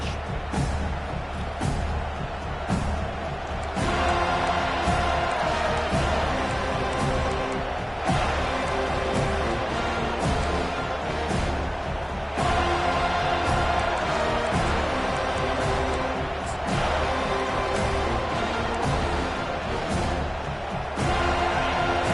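Loud, sustained football stadium crowd roar that swells and dips in rhythmic waves, with no talking.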